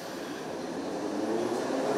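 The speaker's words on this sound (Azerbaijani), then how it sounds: "Qatarlar test mərhələsindən keçirilir." A Baku metro train runs during testing, a steady, even rumble of wheels and motors in an underground tunnel, heard alone without talk.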